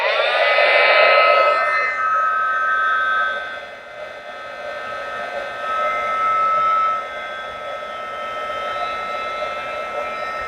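A heat tool blows hot air over a craft embellishment on an envelope mini album, a loud steady whine and rush of air that dips briefly midway and then carries on, with no speech.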